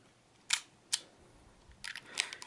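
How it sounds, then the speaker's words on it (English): Konica III rangefinder camera shutter fired and wound, a few sharp close mechanical clicks and snaps spaced apart in a quiet room. "Hitting the shutter after 2 plunges."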